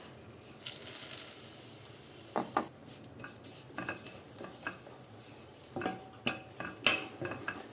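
Vermicelli fries in hot ghee in a pan, where a quiet sizzle sits under repeated close metallic scrapes and clinks of a utensil stirring, arriving in short irregular bursts.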